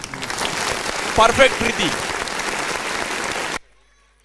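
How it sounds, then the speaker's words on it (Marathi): Enthusiastic applause for Preeti Shinde, player of the match at a local TPL 2024 cricket game, rises into a dense clatter of claps under a voice and runs steadily before cutting off abruptly. "एकदा जोरदार टाळ्या वाजवत प्रीती शिंदेसाठी"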